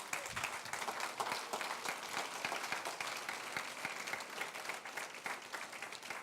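A church congregation claps for the Lord during a sermon on church government, with dense, sustained applause at moderate level and no speech over it.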